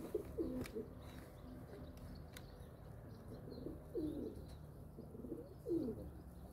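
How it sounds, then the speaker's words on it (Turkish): Pigeons coo softly in repeated low phrases at a moderate distance, with faint bird chirps and clicks scattered above them in a quiet outdoor setting with fresh air. "Kuş cıvıltısı, temiz hava."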